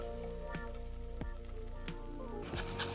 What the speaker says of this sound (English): Then stir fry it.